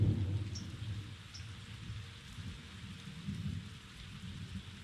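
Steady rain patters down with a low, rumbling roll of thunder underneath, swelling and fading across the stretch, no voices.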